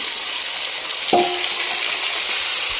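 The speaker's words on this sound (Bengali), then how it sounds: "এখন চিকেনটা কষা কষা করে নেব" Chicken kosha frying in a pan in a village kitchen: a soft, steady sizzle, faint and even, broken once by a brief metallic clink from a pot or utensil.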